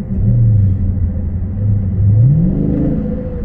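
Modified 6.4L Dodge Charger in sport mode, its V8 engine revving and pulling hard as it accelerates, a loud steady rumble with a rising pitch sweep near the end, no talking.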